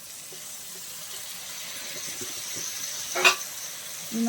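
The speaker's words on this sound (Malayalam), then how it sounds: "ഇനി നമുക്ക് ഇതിലേക്ക് ചിക്കൻ ചേർത്ത് കൊടുക്കാം." Chicken pieces stirred into hot oil and masala for a hotel-style chicken curry, giving a soft, steady sizzle with a brief louder burst of stirring and scraping near the end.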